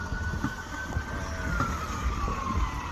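Emergency vehicle sirens play back from a phone video, a steady tone drifting slowly downward under a busy background of traffic or vehicle rumble with scattered knocks, moderately loud throughout.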